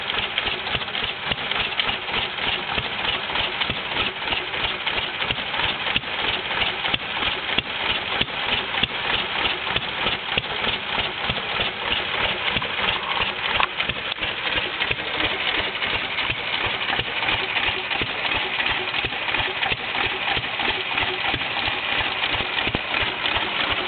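A vintage Fairbanks-Morse ZC52 stationary engine running on propane, chuffing in a steady, fairly loud rhythm of evenly spaced exhaust beats as it slows down, with no talk over it.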